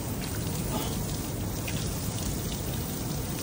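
Water from a hotel shower near a swimming pool sprays down in a dense, continuous hiss, loud and close with an even spatter of drops and no voices.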